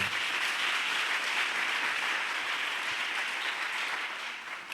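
A church congregation applauds in a steady, dense wash of clapping that holds evenly for several seconds and tapers slightly at the end.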